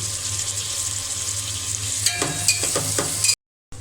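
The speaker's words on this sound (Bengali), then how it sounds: "পেঁয়াজ কুচি দিয়ে দিলাম। এখন আমি ভালো করে ভেজে নেব।" Chopped onions frying in a pan while cooking a cauliflower and pangas fish meal, a steady close sizzle with a few brief stirring scrapes partway through, no talking.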